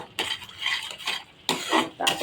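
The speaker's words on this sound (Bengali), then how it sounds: "মশলাটা আমি একটু 2 মিনিট ভেজে নেব" Spice masala for chicken curry frying in a pan, with repeated loud stirring scrapes of a utensil against the pot over a soft sizzle.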